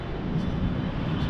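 An aircraft passes near an airport in Vietnam, heard from a rooftop as a brief, steady engine rumble with no voices.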